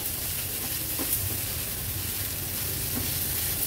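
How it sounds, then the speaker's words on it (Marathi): Prawns with salt and a squeeze of lemon sauté over a high flame, giving a steady, close, dense sizzle with faint stirring scrapes throughout. "हाय फ्लेमवर याला छान परतून घ्यायचंय म्हणजे मीठ लागलं जाईल प्रॉन्सला।"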